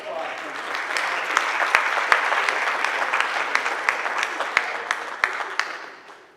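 Audience clapping at a school board meeting, a steady wash of many hands with a few sharp individual claps standing out, building briefly and then tapering off near the end.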